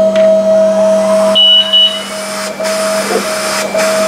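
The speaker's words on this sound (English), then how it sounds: "Now it just ran the holes and it moves back" A Quest 1824 engraving machine runs a Braille raster hole pattern with a steady motor hum and a tonal whine, interrupted by short higher-pitched whirs and faint clicks as the head moves.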